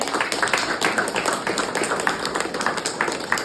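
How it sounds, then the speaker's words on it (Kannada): Loud applause from a group of people at an ashram, many hands clapping close by in a dense, steady patter that runs without a break, given in thanks to a family. "ಅವರಿಗೆಲ್ಲ ಜೋರಾಗಿ ಒಂದು ಚಪ್ಪಾಳೆ ಹೊಡೀರಿ"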